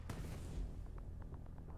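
In a turn-based tactics video game, an explosion blows up a wooden pallet: a dull, muffled boom at the start with a low rumble trailing off, fairly quiet overall.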